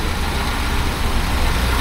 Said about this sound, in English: And it's idling about 790 or 800, between 700 and 800.